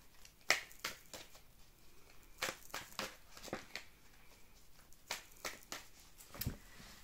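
Tarot cards being shuffled and drawn one by one, a quiet run of crisp snapping flicks and slaps at an uneven pace, close by with no talking.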